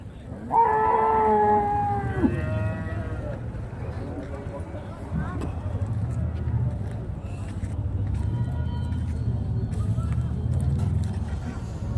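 A single drawn-out moo from cattle at the Chintamani cattle market in Karnataka opens, followed by steady market bustle and someone talking.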